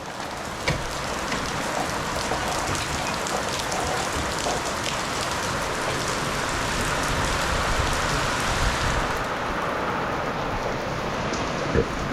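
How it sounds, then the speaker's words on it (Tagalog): Heavy rain from a typhoon pours steadily, a loud, constant hiss of drops drumming on surfaces with no break throughout. "Ang lakas ng ulan."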